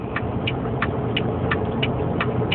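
A heavily loaded truck pulling about 55,000 pounds labors up a Colorado mountain pass in 9th gear near the Eisenhower tunnel, a steady droning engine rumble with a regular clicking tick repeating about three times a second.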